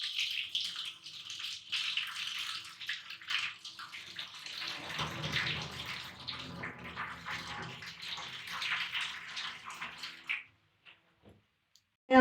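Water from boiled mustard and spinach greens is poured out of a pressure cooker, its lid plate held in place, giving a sustained splashing gush that runs steadily, then stops abruptly into near silence with a faint clink.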